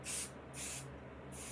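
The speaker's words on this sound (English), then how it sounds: "This is a temporary basting spray" A can of temporary basting spray hisses onto a small quilt in three short, close bursts separated by brief pauses.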